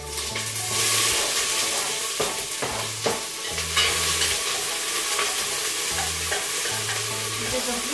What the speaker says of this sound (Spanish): Vamos a sofreír la cebolla.